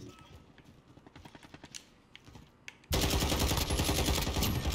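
CR-56 AMAX assault rifle firing in Modern Warfare, starting loud and close after quieter distant clatter, a fast unbroken automatic burst that runs to the end.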